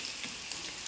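Meat frying in a pan with ginger garlic paste, a steady soft sizzle with faint crackles throughout, fairly quiet and close, no voices.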